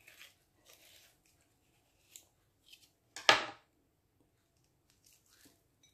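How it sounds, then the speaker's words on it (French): A knife slices through an avocado that is not fully ripe, giving one sharp, close crunching cut in a mostly quiet kitchen, preceded by a few faint small clicks and taps. "Je coupe l'avocat."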